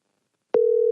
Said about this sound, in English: Why does it keep ringing and not going to voicemail?